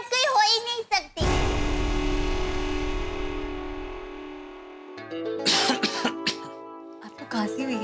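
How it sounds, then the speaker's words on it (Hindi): One harsh cough erupts between stretches of talking, then trails off before voices pick up again. "आपको खांसी हुई है?"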